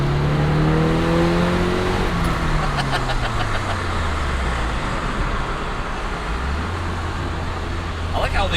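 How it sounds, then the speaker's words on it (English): A Nissan 180SX's SR20 engine drones loudly and continuously through an aftermarket exhaust, its pitch sliding down then rising again as the car slows and accelerates. "I like how the exhaust is,"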